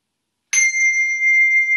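An English handbell strikes once, sharply and close, then rings on as a steady pure tone that holds evenly to the end without fading.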